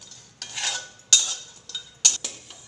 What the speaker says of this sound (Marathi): सगळे ड्राय नट्स आपल्याला थोडेसे क्रिस्पी होईपर्यंतच भाजून घ्यायचे।